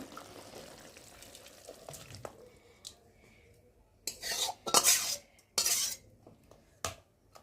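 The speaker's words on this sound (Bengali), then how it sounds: "আর এখন আমি তরকারিটাকে ঢেলে নেব" Fish curry is poured from a pan, with quiet clinks at first and then several louder bursts of scraping, clattering utensils and sloshing liquid close by.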